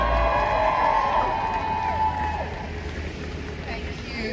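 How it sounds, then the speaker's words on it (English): An outdoor crowd at a pro-Palestinian street protest in Leeds cheers and shouts, with voices calling out over a broad crowd roar that is loudest at the start and tapers off. "Big round of applause for Dr."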